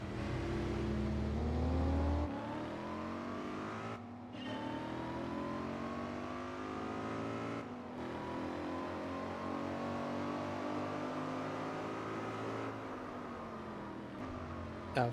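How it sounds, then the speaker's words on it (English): A supercharged Aston Martin Vantage in Gran Turismo 4 revs through the gears with a rising engine note and whine, each climb broken by short shift gaps, steady and close throughout. "Then we get to hear some supercharger whine from the Vantage and the GT."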